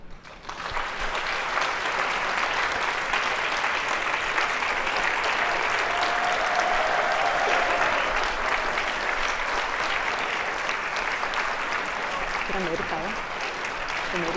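An audience bursts into sustained applause welcoming Byung Hun Lee onto a panel about Korean cinema, a loud, steady wash of clapping lasting over ten seconds, with faint voices near the end.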